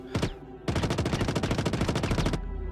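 Rapid, dense gunfire in a prison video game plays as a steady automatic burst. Bullets strike and ricochet off a bulletproof backpack for nearly two seconds after a single opening shot, loud and close.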